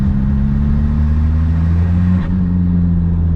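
A 1.9 TDI turbo diesel engine in a Mk3 MR2 drones loudly at close range with a deep steady rumble. It rises in pitch under load and boost, with a brief shift partway through.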